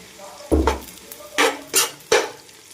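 Onions and green chillies fry in a pan for bagara rice, with four distinct metallic clanks of a spoon striking the pan over a faint background sizzle.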